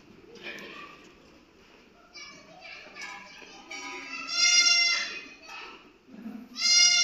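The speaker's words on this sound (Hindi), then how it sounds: "बकरा बकरी को वैक्सीन लगाकर एक एक कर हम बाहर निकालते जाते हैं।" Goats and young kids bleat repeatedly while being vaccinated against FMD in a pen, with cries overlapping at close range, some loud and drawn out, and people talking underneath.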